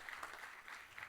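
A small congregation gives a brief burst of faint clapping after a baptism at a Mass.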